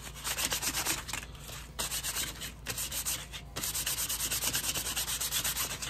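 Steady back-and-forth hand sanding on a wooden diddley bow, a rhythmic scratchy rubbing with a couple of brief pauses, close and fairly loud.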